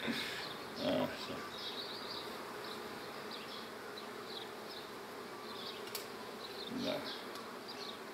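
Honeybees buzz around a hive frame in a continuous close drone, with a few brief louder passes, while someone occasionally speaks quietly in Romanian.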